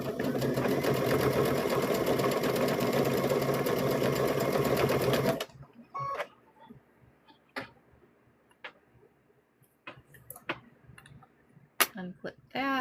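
A sewing machine runs steadily around the head of a stuffed bear for about five seconds, a close continuous whirring buzz, then stops, followed by scattered clicks and handling noises.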